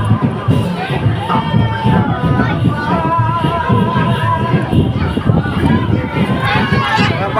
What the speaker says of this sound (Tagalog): Mga bata, si Bongo yung sinisigaw.